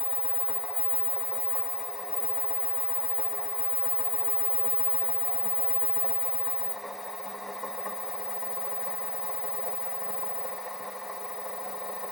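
A steady, even mechanical whir of a small electric motor running continuously, with a constant hum and no pauses or voices.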